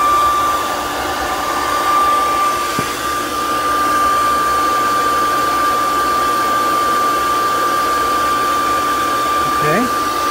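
A hair dryer blows steadily and loudly at close range, drying a clay bottle on a spinning pottery wheel, its whine continuous for the whole stretch with a brief bump near the end.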